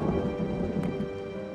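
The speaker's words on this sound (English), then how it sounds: "Rain not only slows down Teoman's schedule, it also soaks an already wet building." Rain pours onto an already soaked Roman bath building under construction, a dense steady hiss of falling water with a low rumbling undertone, short and fairly loud.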